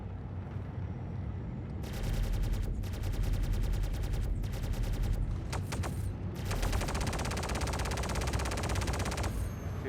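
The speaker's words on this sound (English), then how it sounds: "I do love the sound of ballistics." Bursts of rapid ballistic gunfire from a ship in Star Citizen, the Aegis Avenger, rattle out in several long volleys separated by short pauses, loud and close over a low engine hum.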